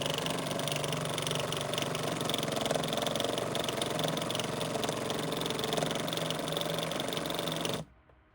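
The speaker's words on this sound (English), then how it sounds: "I want to test out the compressor real quick and make sure that I put it together right." A homemade drill-powered air compressor, assembled from junk parts to feed a train air horn, runs with a steady, loud mechanical whir and buzz for about eight seconds, then cuts off abruptly.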